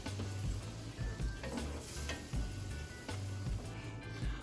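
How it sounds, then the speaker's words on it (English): Food simmers in a pan on low heat, a soft steady sizzle with faint bubbling and a few light ticks, quiet and close, with no talking. "Now just let these simmer."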